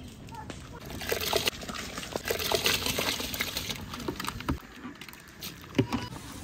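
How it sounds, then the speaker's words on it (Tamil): Rice is poured into a large pot of water for a 4 kg mutton biryani, giving a continuous watery splashing and trickling with scattered knocks, while someone speaks faintly in the background. "இப்போ இதில் வந்து அரிசி போட்டுடலாம்."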